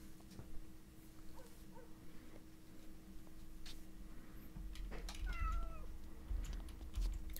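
A cat in The Sims 2 meows a few times at moderate distance, short rising and falling calls over a soft game background hum, with a couple of quieter mews before the clearer cries.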